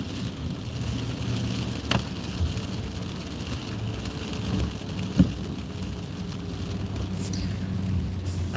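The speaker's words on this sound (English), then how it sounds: "Seems like it's raining everywhere today." Steady rain pours down around a moving vehicle on the road, a dense, even hiss filling the whole stretch with a couple of brief louder knocks, no voices.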